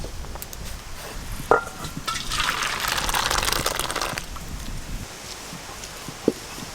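Boiled lentil dal poured from a pot, a soft continuous gush of thick liquid lasting a couple of seconds near the microphone, with a faint clink before and after.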